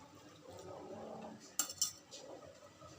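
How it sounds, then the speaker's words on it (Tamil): Water poured into a bowl of spiced flour with turmeric, garam masala and gram flour, then stirred, giving faint wet mixing under soft metallic clinks of a spoon against the bowl. "1/2 கப்பு தண்ணி ஊற்றி விரவணும்."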